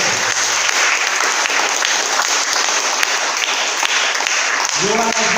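Sustained, loud applause from a church congregation during a Sunday praise service, steady and dense throughout, with a voice coming in near the end.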